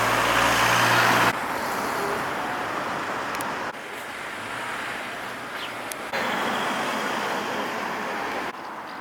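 Cars driving past on a street in the medieval town of Sighisoara, Romania: a steady, broad roar of passing traffic that swells and shifts in several sections, fairly loud and continuous, with no talk.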